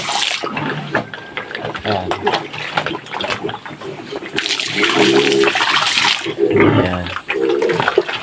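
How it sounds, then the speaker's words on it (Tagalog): Water is poured for pigs at their feeding spot, splashing and filling a container, with pigs audible nearby and someone talking over it. "doon ko rin po sila lalagyan ng tubig na inumin"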